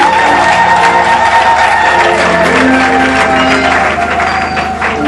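A church congregation applauds and cheers for Jesus, loud, dense clapping with shouts from a large crowd, sustained throughout with no break.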